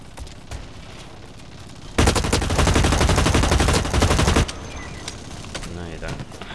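Gunfire in Blacklight: Retribution, a rapid automatic burst lasting a couple of seconds amid quieter game sounds, loud and close.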